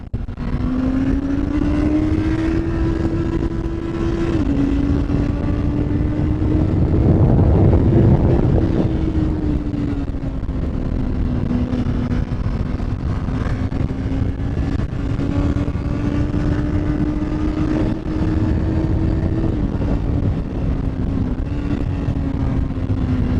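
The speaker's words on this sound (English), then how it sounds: "let's see what she's got overtaking" Honda CBR650R motorcycle (2019) accelerating hard to overtake, a loud, close, steady engine drone that climbs in pitch, drops briefly at a gear change and rises again, with strong wind rush over it throughout.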